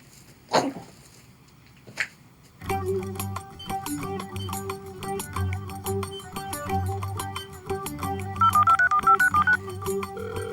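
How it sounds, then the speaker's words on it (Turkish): Two sharp knocks, then a long run of telephone keypad tones beeping rapidly and steadily, fairly loud and close. "telefonmuş bu"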